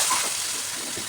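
Water gushes briefly into a cooking pan for a thin catla fish curry, a close, steady pour lasting about a second with no talking.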